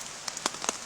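Rain patters on a surface while wild camping in Snowdonia, a steady hiss with a few sharper drop taps heard close by.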